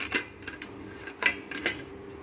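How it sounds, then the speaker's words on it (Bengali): A half-boiled potato is rubbed against a metal grater in a few short, scraping strokes spaced irregularly, close and fairly crisp, with no talking. "এই আলুটাকে একটা গ্রেটার নিয়েছি, গ্রেটার দিয়ে একটু গ্রেট করে নেব"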